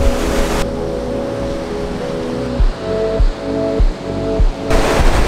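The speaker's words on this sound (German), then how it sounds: "klar, es ist windig" Strong wind at the seaside beside a parked van, a steady loud roar of rushing air with periodic gusts buffeting the microphone.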